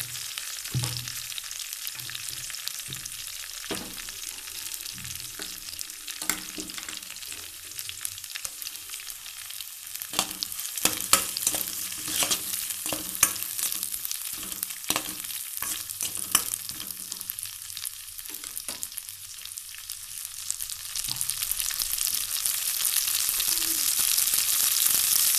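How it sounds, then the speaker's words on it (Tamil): Mint paste for mint rice sautéing in oil in a pan makes a soft, steady sizzle broken by repeated spoon scrapes and taps, close by, with no voices. "பேஸ்ட்டு போட்டு நல்லா வதக்கிக்கோங்க எண்ணெயில்"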